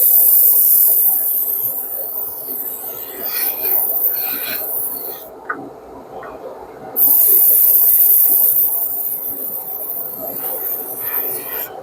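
Spray gun shooting a wet coat of Kaleido gloss varnish onto the Del Ray body, a steady close airy hiss that runs almost throughout, with one brief pause midway before spraying resumes.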